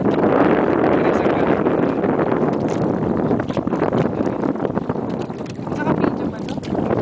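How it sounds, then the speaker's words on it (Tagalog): Steady wind roars against the microphone outdoors, loud and continuous, with people talking over it throughout. "Mahangin nga yun eh."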